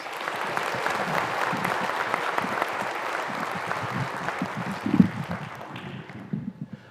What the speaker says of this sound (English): Another round of applause for the rest